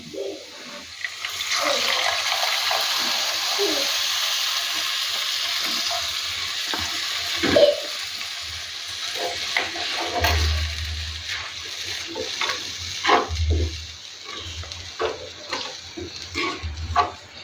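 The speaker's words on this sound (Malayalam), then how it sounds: "പുളിവെള്ളം ഒഴിക്കുന്നു" Tamarind water poured into a hot frying pan over a tempering with curry leaves for a Kerala tamarind curry, a steady loud hiss of sizzling with scattered stirring clicks and a low hum beneath.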